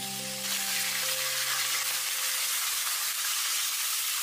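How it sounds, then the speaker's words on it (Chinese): Fish bones frying in lard with a little salt in a wok, a loud, dense hiss and crackle that bursts up suddenly after a short hum and then holds steady, close up with no voices. "锅里面再来一块猪油，下少许毛毛盐，下鱼骨煎至两面金黄"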